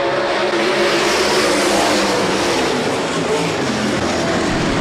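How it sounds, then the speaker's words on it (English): A pack of 360 sprint cars roars past on a restart at Rapid Speedway, a dense, loud, sustained engine drone with no break or talk. "Eric Lutz sets the pace, single file restart in heat race number 1"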